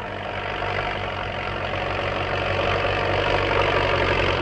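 A tractor engine runs steadily and close by during a driving accuracy test at a rural youth sports competition in Viljandi, a continuous mid-pitched drone with knocking texture and no voices.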